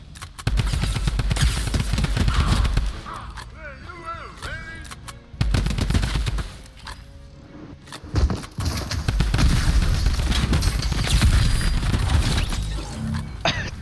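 Fortnite gunfire rattles in rapid, dense bursts from an overpowered weapon, with loud close volleys broken by short gaps and scattered impacts, while a voice speaks briefly between the shots.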